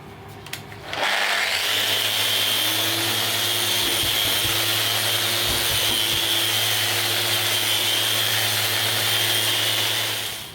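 A power sander works an ash board, a steady loud whine with broadband hiss running continuously after a brief start, close by and alone.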